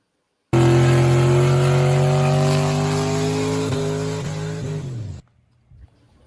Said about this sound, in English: here's the challenge of burnouts for distance